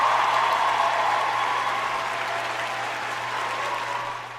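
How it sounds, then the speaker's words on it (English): Dense, sustained applause from many hands forms a steady wash of clapping that gradually softens toward the end, over a faint low electrical hum. "round of applause to them"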